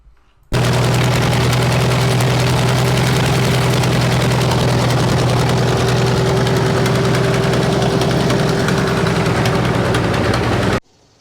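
An engine, with a possible alternator fault, runs at a loud, close, steady idle with an even rumble and a constant hum for about ten seconds before stopping abruptly.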